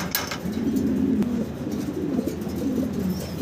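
Fancy pigeons coo in a low, rolling rhythm, close and steady, with soft rustling around them and a few faint chirps.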